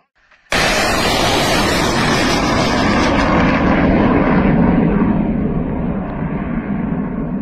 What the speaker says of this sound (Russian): Вертолет!